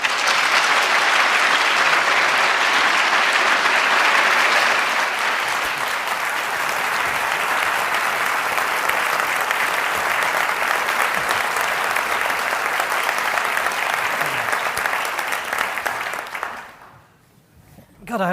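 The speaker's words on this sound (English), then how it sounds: "God, I hope there's that much applause when I finish." An audience applauding for a speaker as he is introduced on stage, loud continuous clapping from a large crowd that swells, holds steady, then fades out as a voice starts to speak.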